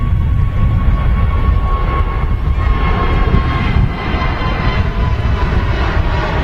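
An Airbus A320neo on its takeoff roll at Manchester Airport, bound for London Heathrow, gives a steady, loud engine roar with a thin whine above it. The roar holds for several seconds without talk.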